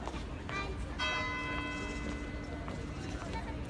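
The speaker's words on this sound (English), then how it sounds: "it is 3 o'clock. I missed the first 2 chimes" A tower bell rings out over a busy outdoor crowd in a city, one clear resonant strike with a long ringing tail that lingers beneath street noise, marking three o'clock.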